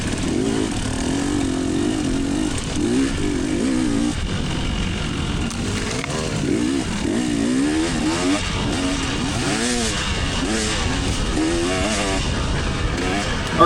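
Dirt bikes racing: engines buzz and rev continuously, pitch rising and dropping through throttle changes and shifts, fairly close and loud throughout, with someone talking over the engine noise.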